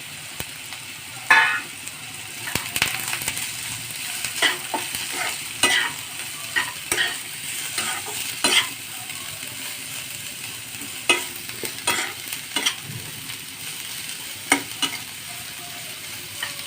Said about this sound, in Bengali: এবার একটু ভাজা ভাজা হোক।